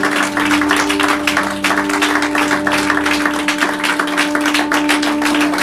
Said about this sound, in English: Everybody clap your hands once again to the Lord.